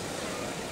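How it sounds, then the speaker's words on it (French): A parked car left running nearby, its engine idling as a steady low hum throughout a brief moment, fairly faint and alone. "il y a une voiture derrière qui est en train de nous empêcher de parler."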